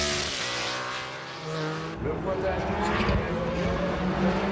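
Porsche 911 GT1 race cars lead the first lap at Le Mans in 1996, their engines roaring loud and close in a rising and falling drone, with a voice commentating over them.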